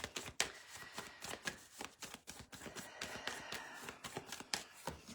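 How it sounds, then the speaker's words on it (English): Tarot cards are shuffled close up, a run of quick crisp riffles and soft taps repeating in uneven bursts. "Give the cards a good shuffle."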